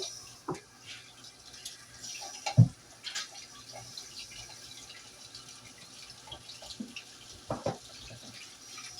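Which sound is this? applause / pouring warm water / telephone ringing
pouring warm water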